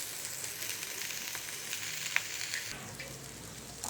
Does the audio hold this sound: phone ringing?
no